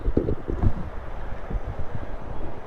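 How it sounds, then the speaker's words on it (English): Headwind buffeting a microphone while cycling on the ride home, gusty low rumbling in uneven pulses throughout, loud and close with no talk. "we've got a full-on headwind on the way home"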